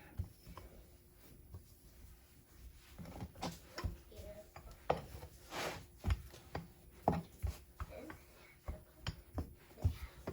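Chapati dough made with carrot and spinach being rolled out, with soft, irregular knocks and taps of a rolling pin on a board, quiet and close, under speech.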